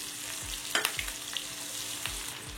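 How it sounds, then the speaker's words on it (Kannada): Green chillies frying in hot oil in a pan for chivda, a steady crackling sizzle with a few sharper pops and scrapes, close and alone with no talk. "ಹಸಿಮೆಣಸಿನಕಾಯಿ ಗರಿ ಗರಿ ಆಗೋವರೆಗೂ ಫ್ರೈ ಮಾಡ್ಕೊಳ್ಳೋಣ."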